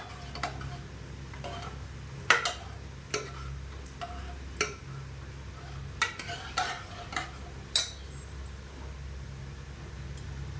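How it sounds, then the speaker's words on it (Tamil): A spoon stirs food in a cooking pan during home lunch preparation, with irregular clinks and scrapes against the metal over a steady low hum and no speech. "நல்லா கலந்துக்கோங்க"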